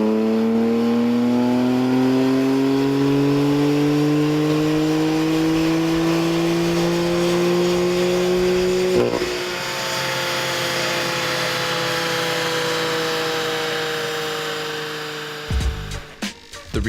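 A 2015 BMW M3 strapped to a dynamometer at K&N Engineering revs in one long steady pull, its engine note climbing smoothly for about nine seconds before a brief shift, then holding loud and close with no talk.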